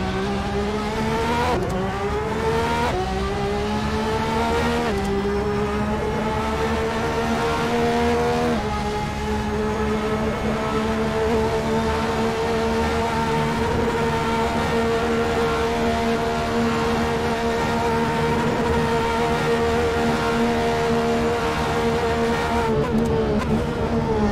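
Aston Martin's planned Le Mans hypercar in Assetto Corsa, heard onboard around Le Mans: a loud, steady high-pitched engine howl with quick upshifts early on, then a long sustained full-throttle drone.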